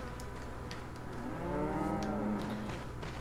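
Cattle in the video game Resident Evil 4 give a long, drawn-out moo that swells in the middle, set over a steady bed of low ambient game noise.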